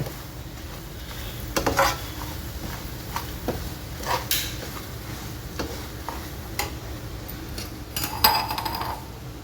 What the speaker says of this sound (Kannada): ಎಲ್ಲ ಚೆನ್ನಾಗಿ ಒಗ್ಗರಣೆ ಜೊತೆ ಬೆರಿಬೇಕು